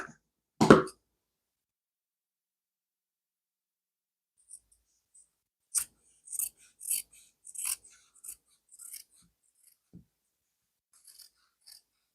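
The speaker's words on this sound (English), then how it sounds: "Now I'm just going to cut this in half." Scissors cut through denim jeans fabric, a string of short crisp snips and rasps after one louder opening rustle, close and fairly quiet, with no voices.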